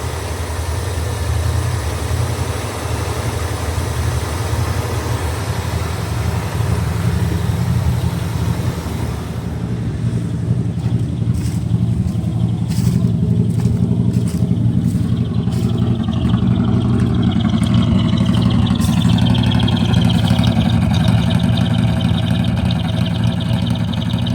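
A 1976 Ford 460 big block V8 in an RV idles with a deep, steady rumble close up, fresh plugs and wires, its low throb loping evenly through a Cherry Bomb muffler for a long stretch without any speech.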